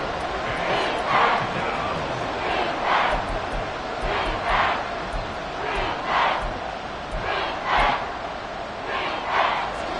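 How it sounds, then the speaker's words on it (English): A stadium crowd in the Madden NFL football game, Miami Dolphins playing, keeps up a steady roar with rhythmic rising chant-like swells, fairly loud and continuous throughout. "The crowd getting into it as we come up on a big third down"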